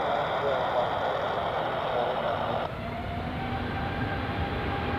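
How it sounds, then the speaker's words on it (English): An Edelweiss Airbus A350 roars on its takeoff run at Zurich Airport, a broad, loud, steady jet rumble with a rising engine tone, heard from a spotting position at some distance. "Takeoff for the Edelweiss A350 to Ibiza."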